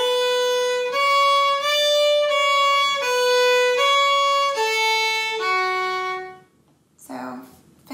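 A Manx fiddle plays the opening phrase of the slip jig Ta Cashen Ersooyl alone, a run of clear bowed notes in steady lilting rhythm lasting about six seconds, then fading out before a brief noise near the end.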